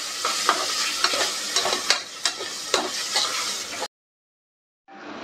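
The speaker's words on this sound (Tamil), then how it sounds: "தக்காளி வந்து நல்லா வதங்கிடுச்சு." Tomatoes sauté in hot oil with mint for a vegetable biryani, a soft steady sizzle punctuated by repeated scraping stirs, then a second of silence before the frying resumes.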